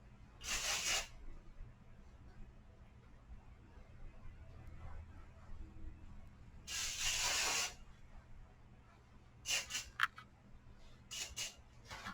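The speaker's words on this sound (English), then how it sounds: "I got the hairspray." Hairspray sprayed onto hair in short, soft hissing bursts, two longer sprays followed by a quick cluster of brief puffs, faint against a quiet room.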